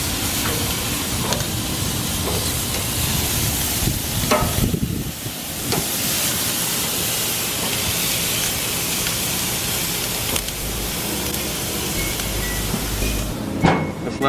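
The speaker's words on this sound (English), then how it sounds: "You can hear the sizzling of the chicken, and you can see the smoke coming out." Chicken sizzles on a smoking grill, a dense steady hiss running without a break, with a few faint clicks and knocks of utensils.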